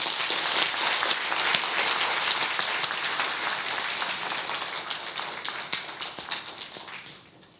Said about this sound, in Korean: 교수님을 박수로 환영해 주시기 바랍니다.